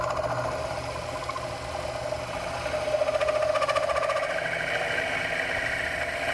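A Proxxon FF230 milling machine cuts a 7mm counterbore into a workpiece, giving a steady, close motor whine with a faint cutting chatter throughout, no talking.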